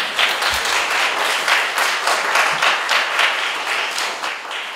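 Third-year middle school students applaud together in a hall, a steady, moderately loud wash of clapping with a gently pulsing rhythm and no talk over it.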